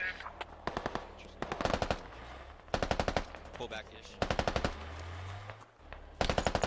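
Machine-gun fire in the video game Squad during an infantry combat event comes in several rapid, loud bursts separated by brief pauses, with a vehicle engine droning faintly underneath.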